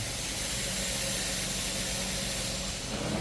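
A hot carpet cleaning machine's steam jets hiss in a steady, loud, broadband rush over a low engine drone, with no voices.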